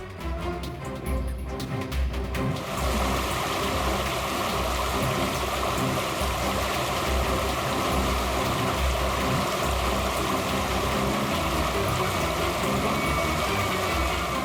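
Waterfall seen on an outing to the falls, a steady broadband rush of falling water that swells after a brief quieter opening and holds loud and constant to the end, with no voices.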